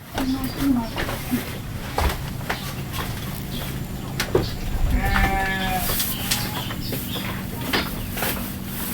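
Sheep bleating among livestock at a village sacrificial-animal sale for Eid al-Adha, the calls mid-distance and intermittent under steady crowd noise and people talking nearby.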